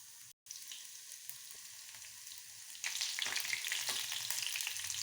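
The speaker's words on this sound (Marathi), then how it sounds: "लसूण चांगला फ्राय झाला." Garlic frying in hot oil with mustard seeds and cumin as a tempering for dal palak, a soft sizzle after a brief gap that swells louder and crackles harder in the last couple of seconds.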